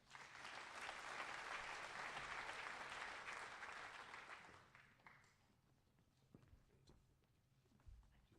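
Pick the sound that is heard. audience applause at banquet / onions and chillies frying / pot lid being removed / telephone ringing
audience applause at banquet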